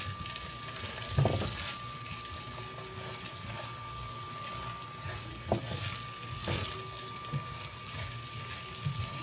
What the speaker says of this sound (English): After your 5 minutes are up, you're going to give it a good stir and mix it together.